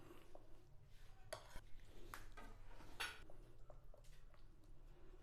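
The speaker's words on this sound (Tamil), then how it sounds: "சேர்த்துட்டு கிளறி வச்சுக்கணும்" A spoon stirs and scrapes cucumber yogurt salad in a bowl with soft clinks and wet mixing sounds, quiet and close, no voices.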